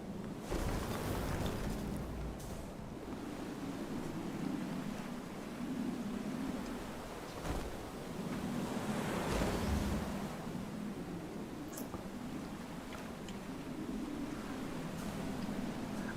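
A sailing boat rolling over ocean waves in FAR: Changing Tides, a low continuous wash of water and wind swelling and easing in slow surges, with no voices.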